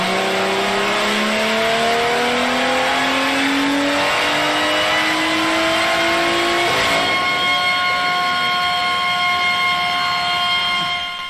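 A BMW M2 Widebody engine revs hard on a dyno, pitch climbing steadily through the gears to a high scream, then holding and easing off.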